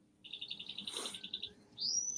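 Pet finches and canaries kept in a nest area chirp in a rapid series of short tweets, followed by a rising call, fairly close and with no talk.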